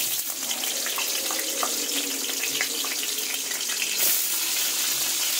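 Cut potatoes and two dried red chillies sizzle in hot oil in a home kitchen, giving a steady, dense hiss and crackle that runs continuously and fairly loud throughout.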